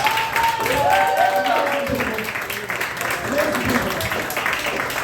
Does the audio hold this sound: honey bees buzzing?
no